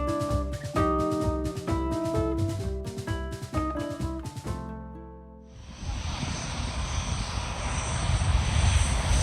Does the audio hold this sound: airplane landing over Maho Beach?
yes